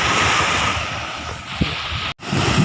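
Sea waves at a seashore in the late afternoon, a steady broad wash of surf with wind buffeting the microphone, constant and fairly loud, briefly dropping out near the end.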